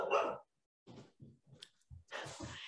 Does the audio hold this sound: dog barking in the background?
yes